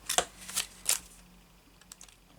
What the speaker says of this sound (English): you just grab your scissors and snip them out